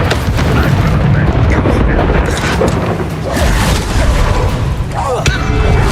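A Bombarda blasting spell erupts in the Hogwarts Legacy video game, a loud, dense rumbling boom of battle noise sustained across the clip under a voice talking.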